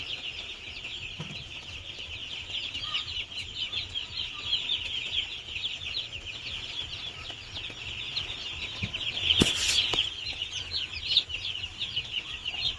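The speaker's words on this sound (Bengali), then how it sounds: "খুব যত্ন সহকারে বড় হয় পোল্ট্রি মুরগি" A flock of poultry chickens kept on sawdust bedding cluck and peep continuously at close range, with a brief burst of louder flapping or scuffling near the end and no talking.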